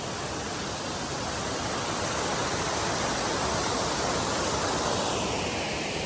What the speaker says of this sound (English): It said that you could hear a waterfall